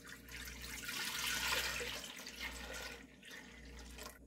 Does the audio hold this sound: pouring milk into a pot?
yes